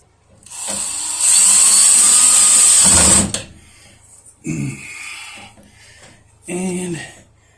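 A power drill or driver tightens two screws on an onn soundbar wall mount, one long continuous whir up close followed by two short bursts, with brief speech between them.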